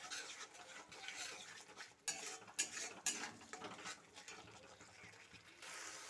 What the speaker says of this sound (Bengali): দিয়ে ভালো করে সব মশলা কষিয়ে নেব